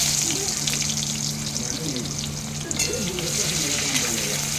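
Onions and dried chillies fry in hot oil in a home kitchen, making a steady, dense sizzle and hiss that stays close and even throughout, with a faint voice in the background.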